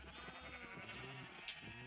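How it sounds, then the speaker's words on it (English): Sheep in a video game farm bleat in short, repeated calls at steady moderate loudness over a soft ambient background, with no talking. "I don't actually need these sheep, other than for their wool."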